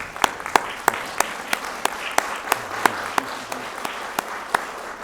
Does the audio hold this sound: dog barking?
no